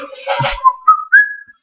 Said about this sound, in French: Je vais faire le petit coup de sifflet en même temps.